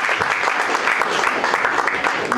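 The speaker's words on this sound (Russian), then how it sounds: "аплодисменты" An audience at a Moscow Africa festival applauds in a dense, steady wash of clapping, loud and continuous throughout.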